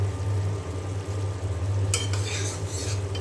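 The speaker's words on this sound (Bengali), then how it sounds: "আলু আর টমেটো কষিয়ে নিয়ে তারপরে মাছ দিয়ে দেব।" Potatoes and tomatoes are stir-fried in a pan, a low steady hum underneath with soft stirring and a burst of utensil scraping against the pan toward the end.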